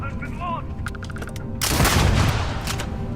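Explosive rounds fired from a gun in the Starfield video game: a dense burst of rapid blasts and rumbling impacts swells midway and holds loud, following a few sharp clicks and brief electronic tones.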